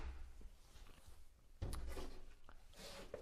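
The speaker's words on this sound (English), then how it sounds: "this has become a pull-out drawer" A pull-out drawer built into a model railroad layout slides open with one close, fairly loud scraping rumble, followed by lighter knocks and rattles of the wood.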